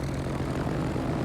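Three propeller-driven torpedo bomber planes in World of Warships flying on an attack run, a steady droning engine hum holding at even loudness throughout with no talk.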